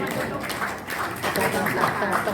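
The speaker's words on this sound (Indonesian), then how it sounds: "Alhamdulillah, tepuk tangan." Crowd applause at a large halal bihalal reunion gathering in Jakarta, a dense continuous patter of clapping with voices mixed in beneath it.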